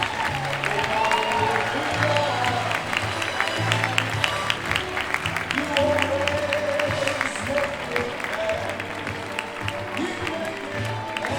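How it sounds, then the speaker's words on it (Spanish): Audience applause at a live show in Vigo honoring a performer, a steady wash of clapping from a crowd with a host's voice talking over it throughout. "Patricia Moon, un fuerte aplauso."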